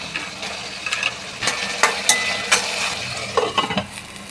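Tomatoes are tossed into frying onions and stirred, with a spoon scraping and clacking against the pan in uneven bursts over a steady sizzle. The sound is close and fairly loud.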